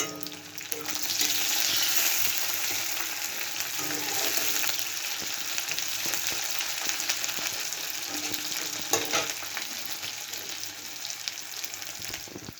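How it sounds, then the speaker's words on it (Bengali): Green chillies and onion fry steadily in a pan, giving a continuous close sizzle with occasional stirring scrapes, and no voices. "কাঁচা লঙ্কাটা একটু ভাজা হয়ে আসতে দিয়ে দিচ্ছি"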